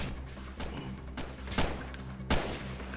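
Rifle gunfire in the game Freeman: Guerrilla Warfare, with several sharp shots spaced about a second apart, the louder cracks landing near the middle and end over a steady low hum.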